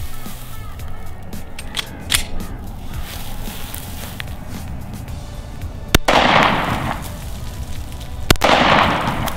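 Handgun shots ring out at a shooting range, two sharp distinct reports several seconds apart, with people talking and some shuffling in between.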